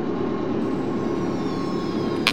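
Subway train pulling out of Oak Street station in the OpenBVE train simulator game, a steady loud rumble and drone of rolling stock with a faint whine, and a short click near the end.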